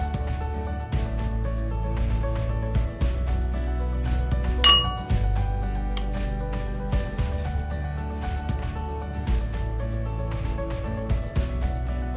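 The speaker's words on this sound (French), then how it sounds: "Je vais mettre une cuillère." A spoon clinking against glass and metal containers while measuring oils for a homemade hair cream, with repeated bright taps and one sharper ring over a steady low hum, no talking.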